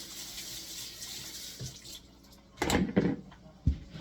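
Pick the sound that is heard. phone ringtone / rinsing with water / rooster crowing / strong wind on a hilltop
rinsing with water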